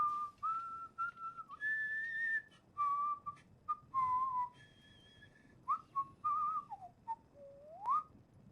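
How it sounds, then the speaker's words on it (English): Codsworth, the robot butler in the Fallout 4 video game, whistles a wandering tune alone: a clear, near melody of sliding held notes and short chirps broken by brief pauses, with no talk over it. "I haven't heard him whistle in a long time."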